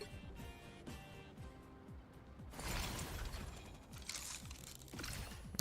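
A Marvel Rivals character's self-repair emote plays as a run of mechanical clicks, ratcheting and whirring gear noises, with a brighter burst of clanking and sparking metal partway through, fairly quiet and with no talking.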